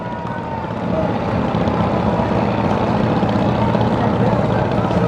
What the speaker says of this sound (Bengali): ড্রোনটা চলে আসতেছে